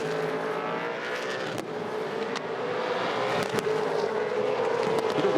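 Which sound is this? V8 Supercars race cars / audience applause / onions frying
V8 Supercars race cars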